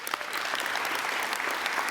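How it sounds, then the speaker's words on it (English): Graduation audience at a college convocation ceremony applauding, a dense, steady wash of many hands clapping close and loud throughout, with no talk over it. "give you, yourselves, and each other a big round of applause"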